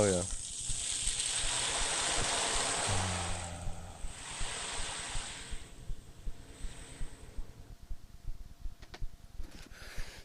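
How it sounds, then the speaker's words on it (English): Ocean waves recorded at the shore: a loud wash of surf that swells, recedes and washes in again, then gives way to rhythmic softer pulses, with a voice briefly audible. "That's where my brain goes when I hear the ocean."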